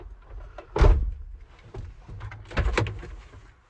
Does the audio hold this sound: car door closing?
yes